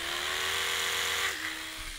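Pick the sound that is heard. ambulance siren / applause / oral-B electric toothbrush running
oral-B electric toothbrush running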